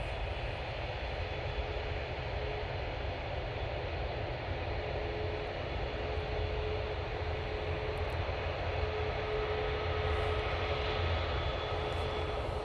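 Aer Lingus ATR turboprop airliner at an airport, a steady distant engine drone with a thin whine, faint and unchanging throughout.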